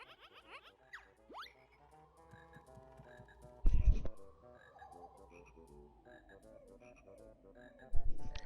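Frog chorus from the video game Banjo-Kazooie, with warbling croaks repeating in a steady pattern over light game music, broken by two short loud thumps.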